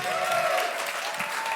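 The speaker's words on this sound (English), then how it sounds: "Please give them a big round of applause." An audience claps for a dance company at a showcase, a short burst of steady applause with a faint tone running underneath.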